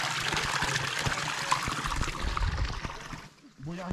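Water from a small spring trickles and pours steadily near a hilltop lookout tower, a continuous close liquid splashing that briefly drops away near the end, with people talking over it.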